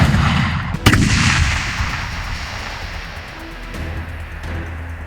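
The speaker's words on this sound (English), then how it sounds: "His voice is drowned by the sudden crack of German tank guns." A war sound effect of German tank guns firing: a heavy boom cracks out early, then leaves a loud, rumbling, roaring wash that slowly dies away.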